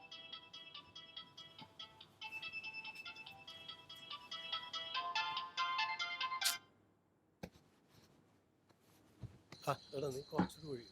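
A phone ringtone plays as a repeating electronic melody for several seconds, cuts off abruptly, and is followed by quieter clicks and a brief burst of high tones.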